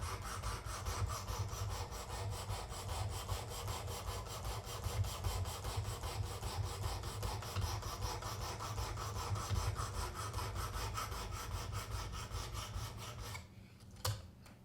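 A Buck 180 Crosslock knife blade grinds against the abrasive of a Work Sharp Precision sharpener, a rapid, continuous rasping scrape repeated in quick strokes, close and steady, then stopping abruptly near the end.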